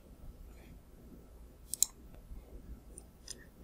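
A single sharp computer mouse click, with a couple of fainter clicks after it, against a quiet background.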